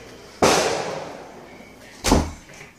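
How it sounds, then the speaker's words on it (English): Fireworks going off on July 4th weekend: two sharp, loud bangs about a second and a half apart, each with a short echoing decay. "We've been hearing fireworks go off like all weekend long."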